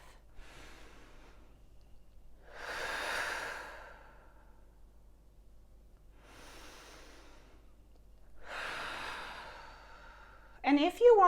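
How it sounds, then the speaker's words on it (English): Slow, deep breaths drawn in and out through the nose during a relaxing Qigong rest practice, four soft airy waves spaced a few seconds apart, close and quiet, ending with a brief voice. "allow your breath to flow in through the nose and out through the nose"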